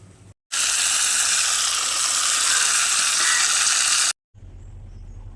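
Water gushes loudly and steadily for several seconds as two kilograms of beef bones are washed for a Kerala-style village curry, cutting off abruptly with quieter background noise on either side.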